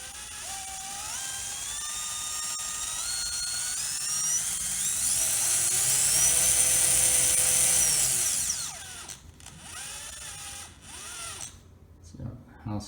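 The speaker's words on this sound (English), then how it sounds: "Pretty dang slow for a 4100 kV brushless motor." A 4100 kV brushless motor in an SCX24 Jeep Gladiator RC crawler runs slowly, giving a close, thin electric whine whose pitch climbs, holds steady and then falls away, with a few softer whirs near the end.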